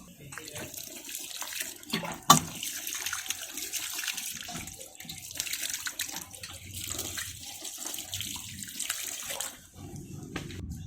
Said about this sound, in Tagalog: Pagkatapos maipunla ang mga buto, diligan lang natin siya ng tubig.